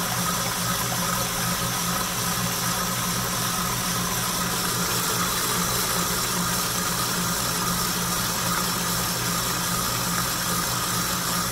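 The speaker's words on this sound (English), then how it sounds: "now that we have our heavy whipping cream inside of our mixer, we're simply going to turn it on and let that whisk" A stand mixer whisks heavy whipping cream with a steady, loud motor hum and a constant whirring wash of beating, unchanged throughout, with no talk over it.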